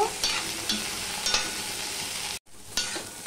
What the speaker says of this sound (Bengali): সবার প্রথমে আমি ভেন্ডিগুলো ভেজে নেব।